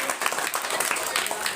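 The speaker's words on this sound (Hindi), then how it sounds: "कुमार के लिए मैं जोरदार ताली मारिए" A school audience applauding a class 6 student, dense brisk clapping from many hands filling the whole moment, with voices faintly mixed in.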